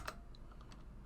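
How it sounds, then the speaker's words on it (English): Typing on a computer keyboard while coding, with faint, close key clicks in a loose, irregular rhythm over a quiet room hum, no voice. "So if you start typing in"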